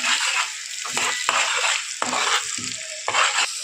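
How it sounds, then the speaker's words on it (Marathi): Ground masala paste sautés in hot oil for a fish curry, a loud close sizzle broken by several stirring scrapes and thuds of a spoon against the pan, with no voices. "आता ह्याच तेलामध्ये आपण जे म्हणून वाटण केलं तर बारीक ते टाकूया छान तेलामध्ये आता वाटणही परतून घ्यायचं आहे"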